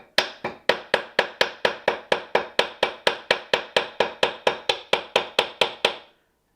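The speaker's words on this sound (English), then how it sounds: "I'm now going to come in and hammer more on the side that it's curving to" Steady hammer blows on a sterling silver bail, shaping it to straighten a curve; about twenty crisp, ringing metallic taps in an even rhythm, close and fairly loud, with no talking.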